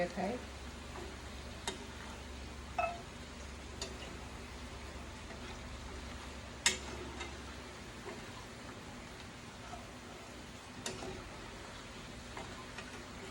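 Nimki dough strips frying in oil, a quiet steady bubbling hiss with occasional faint clicks and taps, low hum early on, no voice heard.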